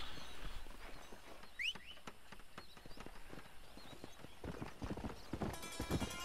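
Horse hooves clip-clopping in the video game Red Dead Redemption 2, a steady close trotting rhythm with a brief whinny near the start and faint game ambience around it.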